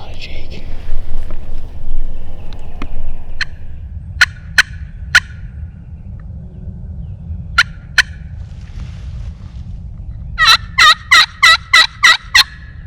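A wild turkey jake gobbles outdoors during spring turkey season, with several short, sharp gobbles spread through the clip and a fast burst of repeated gobbles near the end, fairly near and loud over a low, steady background rumble.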